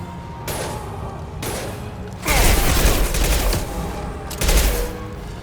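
Bursts of automatic gunfire in the video game Mass Effect 2, loud volleys in several separate bursts, with two especially heavy, booming stretches.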